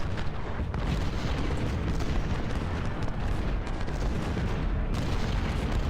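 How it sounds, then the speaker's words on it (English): Musket volley fired by Civil War infantry in the Ultimate General: Civil War strategy game, heard as a dense, continuous roar of booming gunfire and battle rumble that stays loud for the whole stretch, with no voices. "Morris has taken one volley."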